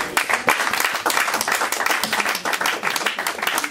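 A church congregation claps and applauds together, dense and loud, a steady fast patter of many hands filling the space without a break.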